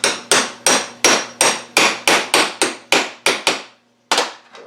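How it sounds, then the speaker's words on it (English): A small hammer taps a seal into a GM 4L80-E transmission during a rebuild, about a dozen sharp, evenly spaced metallic strikes close up, with one short pause before the last two. "I'm going to use a smaller hammer."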